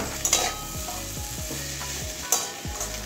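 Ivy gourd and potatoes fry in a pan, stirred with repeated scraping strokes of a utensil over a steady close sizzle, with a few louder clatters; no one speaks.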